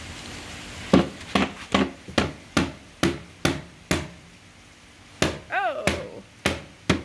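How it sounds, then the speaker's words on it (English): A hammer drives a wood anchor into a wall with about eleven sharp, fairly loud knocks in an irregular rhythm, including a burst of several quick blows, and a short vocal exclamation partway through. "I think you might hammer it in. Let's try. Let's try the hammer."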